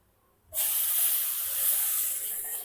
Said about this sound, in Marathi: आता परत आपण ह्याच्यामध्ये आता दूध घालून घ्यायचं आहे